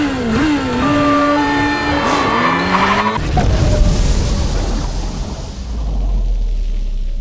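A motorcycle skids and crashes on a road in an action film: a sharp tire squeal with wavering pitch for about three seconds, then a sudden cut to loud, rough rumbling noise that carries on to the end.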